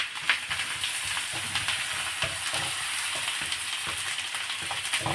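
Ginger and garlic sizzle hard in butter on a high gas flame as tadka for fried rice, a steady crackling fry with scattered stirring clicks, close and continuous with no voices.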